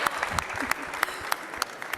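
A studio audience applauds during World Cup analysis coverage, with moderate clapping and distinct individual claps rising above a softer wash, and a voice faintly underneath.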